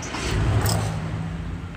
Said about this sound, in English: Just start the vehicle